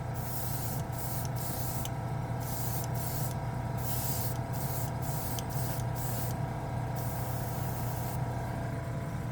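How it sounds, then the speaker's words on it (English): Cold air blows in a steady, close hiss over a freshly sprayed chrome mirror paint finish, continuing for the whole stretch with a few brief dips in the upper hiss and no talking. "I'm blowing some cold air on it here, see it?"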